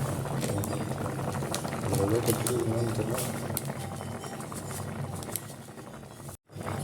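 A pot of pepper curry bubbles at a steady rolling boil, soft popping and gurgling throughout, with a voice speaking faintly nearby.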